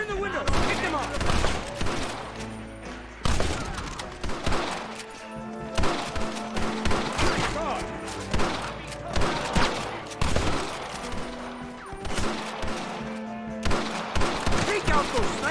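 Rapid volleys of gunfire in a Red Dead Redemption shootout with snipers firing from a window, sharp repeated shots crackling over a dense music and effects bed, with voices shouting in the mix.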